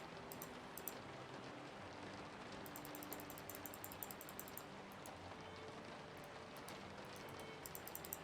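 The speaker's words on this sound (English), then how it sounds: "it's also rainy and dark as all heck" Steady rain falls in The Hunter: Call of the Wild on a dark, stormy night, a constant broadband hiss with scattered faint patters and drips, continuous and even throughout.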